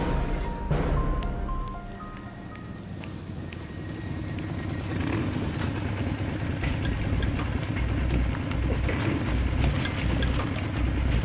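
A motorcycle engine idles and revs nearby in a French drama scene, a steady mid-low engine hum that grows fuller and louder midway, with clicks and a faint music-like tone layered over it.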